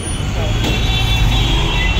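Loud, dense road traffic on a busy Delhi street, a continuous roar of engines and rumbling vehicles close by with a faint horn, filling the whole scene.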